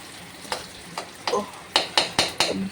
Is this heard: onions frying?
yes